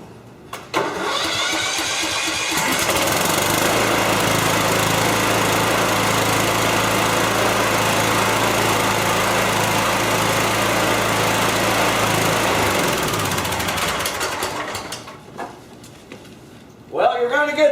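A Kohler Courage small engine, freshly repaired at the valve cover, cranks, catches and runs at a steady, loud, close drone for about twelve seconds before winding down and cutting off, with brief talking near the end.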